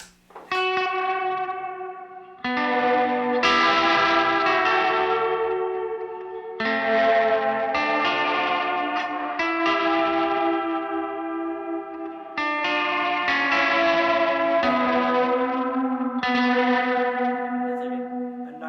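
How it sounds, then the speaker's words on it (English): An electric guitar, a Fender Telecaster, runs through a Walrus Audio pedal set for a broken, glitchy reverb with stacked octaves. Sustained chords swell and ring with shimmering higher octaves and long washy tails, loud and alone, changing roughly every few seconds. "I love that broken, like, reverb sound with all those octaves."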